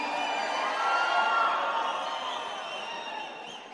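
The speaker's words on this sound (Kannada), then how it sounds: "ಅವ್ರಿಗೊಂದು ಜೋರ ಚಪ್ಪಾಳೆ" An audience at a Kannada film event cheers and claps for an actress being called to the stage, producing a steady, dense wash of crowd noise that holds for several seconds and fades slightly toward the end.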